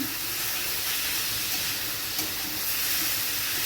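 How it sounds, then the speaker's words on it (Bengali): Cumin and coriander powder being stirred into frying spices in a pan, a steady close hiss and sizzle with soft scraping, no voices. "এক চামচ ধনে গুঁড়ো দিয়ে আবারও মশলাটা ভালো করে মিশিয়ে নিলাম"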